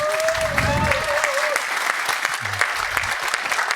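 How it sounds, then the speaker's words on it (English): A conference audience applauds after a talk, steady dense clapping at moderate distance that carries through the whole stretch, with a few faint tonal sounds and murmurs underneath. "please have a nice applause for the talk"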